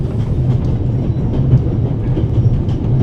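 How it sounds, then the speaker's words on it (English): Train rolling on rails in a video game, with a steady, loud, close rumble and faint rhythmic clickety-clack of wheels throughout, no talking. "How can I stop the train?"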